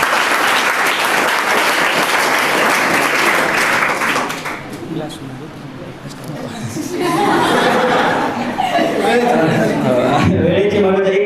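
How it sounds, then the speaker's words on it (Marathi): An audience at an academy anniversary event claps loudly for teachers in a sustained burst that fades midway and then rises again, with chuckles and chatter mixed in. "त्याच्यासाठी एकदा टाळ्या व्हायला पाहिजे."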